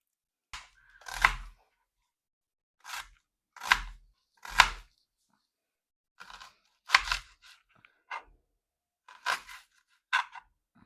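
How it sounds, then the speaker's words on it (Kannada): A knife chopping onions on a board, in a kitchen cooking Jamaican food, with sharp isolated thuds in small clusters separated by quiet pauses, close and clear with no talking. "ಫಸ್ಟ್ ಆನಿಯನ್ ಚಾಪ್ ಮಾಡ್ಕೊತಾ ಇದ್ದೀನಿ"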